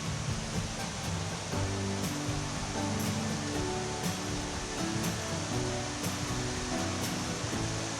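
Steady, full rushing of flowing water from the Horse Pasture River, a continuous broadband roar with no talking and little change in level throughout.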